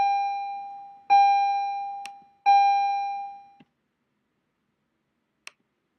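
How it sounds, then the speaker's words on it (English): Bell tones ring twice indoors, each a clear sustained chime that decays for about a second, followed by a few small clicks and near silence. "Sorry, I got interrupted by a bell there."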